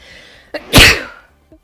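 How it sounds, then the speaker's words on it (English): A single sharp sneeze preceded by a quick inhaled breath, close and loud, followed by a brief soft sound afterward. "I had to sneeze right as I'm applying my mascara"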